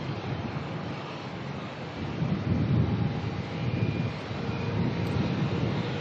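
A Jetstar airliner's engines start up after pushback at Melbourne airport, a broad, low rumbling roar that swells and holds steady, heard from some distance with wind buffeting the microphone.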